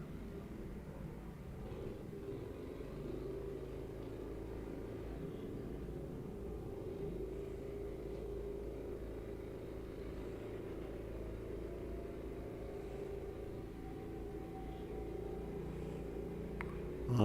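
A race car engine in an OVRP endurance heat drones steadily at near full throttle, a low continuous rumble with a slight pitch climb toward the end.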